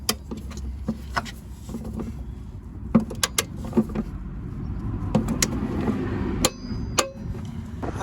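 A torque wrench tightens the rear shock absorber fixings on a Vauxhall Corsa to 54 Newton metres, giving a series of sharp metallic clicks and taps over a low background hum, with no talking.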